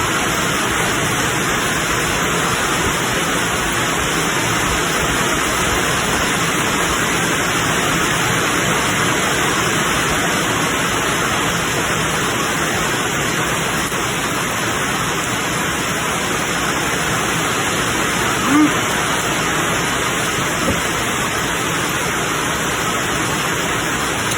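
Steady rain falls in a continuous, dense hiss that holds at one level throughout, with no talking over it.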